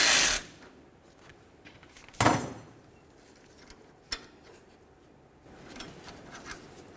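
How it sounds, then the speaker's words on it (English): Wrench loosening two pinch bolts on a tie rod sleeve of a 1988-2000 Chevy C/K1500, heard as sharp metallic clanks and scrapes, a few distinct close knocks with quieter ratcheting clicks between. "I'm going to have to loosen up my 2 pinch bolts right along there"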